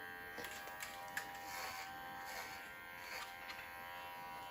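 Electric clippers trim long hair on a dog, a steady close buzz with small bumps and shifts as the blades move through the coat.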